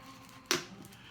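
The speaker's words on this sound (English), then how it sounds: "That's the sound of her destroying the water bottle." A plastic water bottle gets crushed in one sharp, close crackling crunch that fades quickly against a quiet room.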